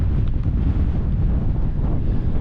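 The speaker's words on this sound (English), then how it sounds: "And as you can hear, it's windy." Strong wind on Hare Law hill roars and buffets the microphone in a steady, loud low rumble with no other sounds.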